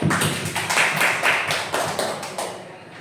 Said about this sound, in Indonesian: Aplaus buat ibu Mili.